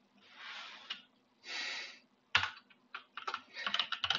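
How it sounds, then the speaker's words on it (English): Computer keyboard typing sounds up close, with two soft breathy exhales first and then bursts of quick key clicks in irregular clusters. "it's a lot of typing."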